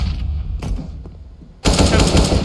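Counter-Strike gunfire comes as a sharp close shot followed by a loud burst of rapid fire, heard without any talk.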